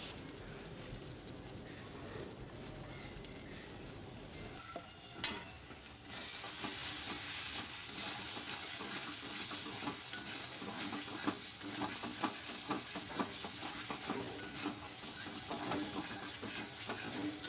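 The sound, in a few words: sautéing spices with green chili paste in a pan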